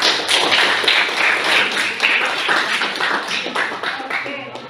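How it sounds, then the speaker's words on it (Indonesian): Classroom audience claps for a student named Teta during a physics lesson, a burst of quick overlapping hand claps and taps that stays fairly close and gradually thins out. "kasih aplaus dulu buat Teta"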